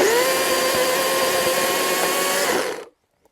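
An electric chainsaw roars at high pitch for nearly three seconds, bogging slightly as it bites into protective chainsaw chaps, then cuts off abruptly into silence.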